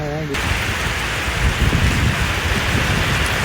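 Steady heavy rain falls in a forest park, a dense, even hiss that fills the scene loud and close, with no break across the short stretch.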